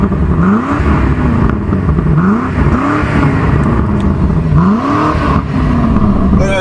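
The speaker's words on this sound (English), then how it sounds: "Now let's go to the back and hear that exhaust." A BMW M5 CS exhaust revs repeatedly, each throttle blip rising and falling in a loud, steady series of climbs close by, with no talk over it.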